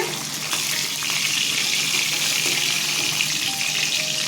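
A katla fish head frying in mustard oil in a hot kadai, giving a loud, close, continuous sizzle with faint stirring underneath and no voices.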